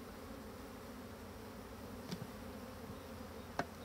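A colony of black honeybees buzzes in a steady, dense drone at an opened Dadant hive, with a couple of brief clicks from the hive frames.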